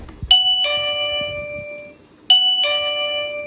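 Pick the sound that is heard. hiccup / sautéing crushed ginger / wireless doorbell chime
wireless doorbell chime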